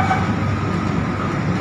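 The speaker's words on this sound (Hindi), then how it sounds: "मेट्रो के सफ़र में हम उस स्टेशन पर आ गए" A Lucknow Metro train running, a steady loud rumble heard from inside the car, with constant low mechanical noise and no talk.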